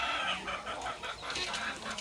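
Chickens cluck in a rural backyard near a nesting area, a close, busy run of short overlapping clucks with no talking.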